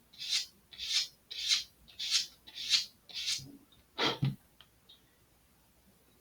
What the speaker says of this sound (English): Sanding the leading edge is more important, but the tail edge is not something you should neglect either